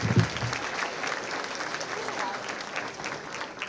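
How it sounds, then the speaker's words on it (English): Applause in a meeting room for Tina Douglas, Assistant Superintendent of Business Services, steady moderate clapping with a short voice at the start and crowd murmur underneath. "Let's give her a round of applause."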